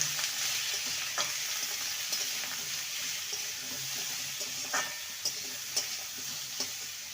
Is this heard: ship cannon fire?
no